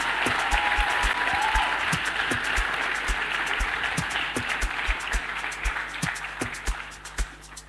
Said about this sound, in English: But if you were clapping for the host of INNOVATE'24, I think you haven't done enough.